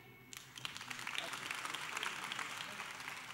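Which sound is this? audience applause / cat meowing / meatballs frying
audience applause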